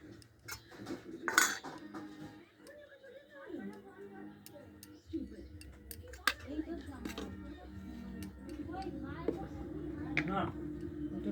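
A utensil mixes chilli powder and other spices into food in a dish, with irregular metallic clinks and scrapes against the vessel, close but quiet, while a voice talks at times.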